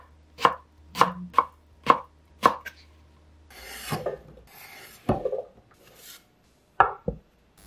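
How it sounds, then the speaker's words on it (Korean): A knife chops eggplant into small cubes on a cutting board, five sharp, evenly spaced chops, then softer scraping and a few scattered cuts, close and clear with no speech. "1cm 큐브 모양으로 썰어주세요."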